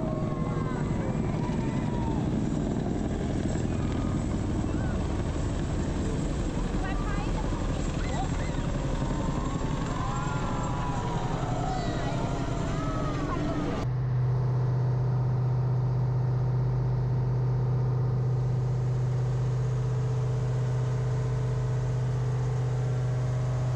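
Continuous droning roar of aircraft engines with a throbbing, rotor-like beat, later shifting to a steadier low hum; voices speak over it.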